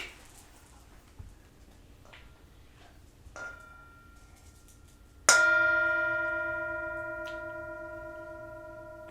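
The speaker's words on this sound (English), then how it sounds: "I'll do the bell here before I read O'Donohue." A bell is struck once during a Buddhist Christian Lent service, a clear ringing tone with a long sustained decay, preceded by a few soft knocks and shuffles.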